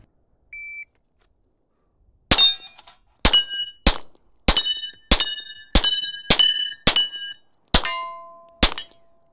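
Pistol shots ringing off steel plate targets at an outdoor range, a beep followed by about ten sharp metallic clangs in a quick uneven sequence, each with a short ringing decay, no talking.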